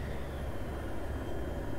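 A helicopter in the video game Battlefield 3 gives a continuous, loud rotor and engine drone that fills the whole stretch evenly, with no pauses.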